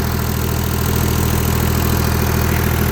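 A tractor engine idles at medium throttle, running as an old tube well's pump motor, with a loud, steady low-pitched chugging rumble throughout and no voices.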